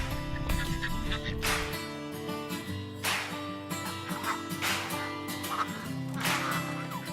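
Domestic ducks kept in a pen beneath a stilt house in Desa Sejangko near Palembang, quacking repeatedly in bursts over a steady background hum, fairly close and moderately loud.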